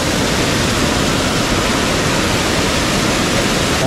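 River water rushes steadily where the Gad and Kajali rivers meet in Konkan during the rains, a loud, dense, unbroken roar close by with no voices.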